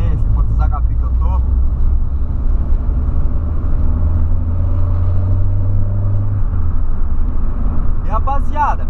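Volkswagen Polo 1.6 sedan rounding a curve, a low, steady engine and road rumble heard from inside the cabin with a droning tone, while someone talks briefly at the start and end.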